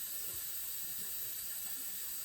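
Water hissing and trickling steadily into a home steam boiler on a cold night, filled by hand because there is no automatic filler; a faint, continuous flow with no voices.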